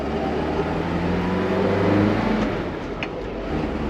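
A 1957 Mercedes-Benz 190SL accelerating onto a highway, its engine note rising steadily from inside the car over a few seconds, a mid-pitched drone with road rumble beneath.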